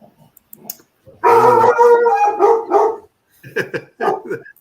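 Loud, close dogs howling in a drawn-out wavering chorus, then breaking into short yips and barks; a faint voice is briefly audible at the start.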